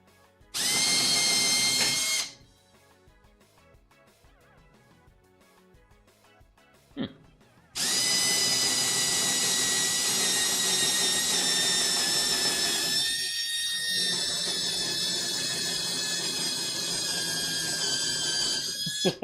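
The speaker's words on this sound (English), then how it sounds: "that drill is definitely starting to make those wonderful, fun, sad drill noises" A handheld power drill bores into wood while building a miter saw station in a workshop, a short loud whine, a pause with faint noise, then a long sustained high-pitched drilling run, no talk.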